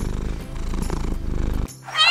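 A cat purrs close up in a steady rhythmic rumble, then the purring stops and a short meow follows.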